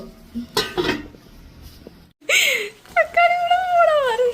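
A lid clinks onto a pot of simmering meat in a home kitchen, a couple of brief metallic knocks up close, followed by a voice talking.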